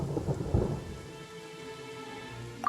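A thunderstorm in Genshin Impact: low thunder rumbles over steady falling rain, loudest early, then settling into a softer wash of rain.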